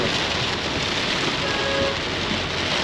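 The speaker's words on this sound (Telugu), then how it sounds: "ఇంత దారుణమైన వాన చైనాలో చూడలేదండి" Heavy rain pours down steadily in China in a dense, unbroken hiss with no pauses.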